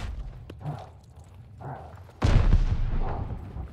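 A grenade blast from Call of Duty Vanguard lands with a sudden loud boom partway through, trailing into a rumbling decay after a couple of softer thuds of gunfire and game noise.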